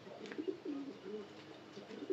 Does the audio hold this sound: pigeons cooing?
yes